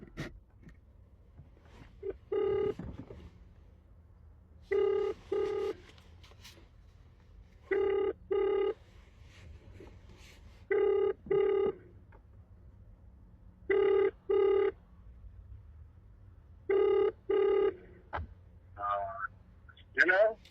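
An outgoing telephone call rings repeatedly, paired double rings recurring at steady intervals over a quiet line, with faint speech between rings and a voice at the end.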